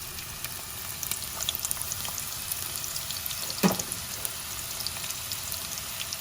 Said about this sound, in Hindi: तेल गर्म होने के बाद प्याज डालेंगे।